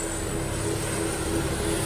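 An air ambulance helicopter in flight gives off a steady, loud engine and rotor drone with a constant hum, heard from inside or close by without speech.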